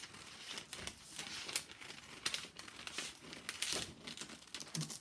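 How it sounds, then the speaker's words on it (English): Scissors snip and crinkle through a paper pattern traced around the top of a coat hanger for a peg bag, giving quiet, irregular cutting and rustling close by with no talking. "So you can see I'm cutting around the top part of the coat hanger."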